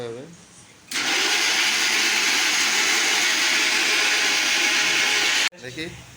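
A kitchen mixer grinder runs loudly and steadily for about four and a half seconds, grinding soaked almonds into a paste, starting and stopping abruptly, with quieter room sound before and after.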